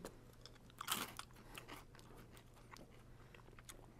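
A flavored snack is crunched and chewed close up, one sharp bite followed by quieter, irregular chewing crunches over a low steady hum.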